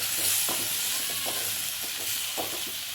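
Dried fish curry simmers and sizzles steadily in a pan while a spoon stirs through it in repeated soft scrapes, close up, under a constant hissing bubble with no voices.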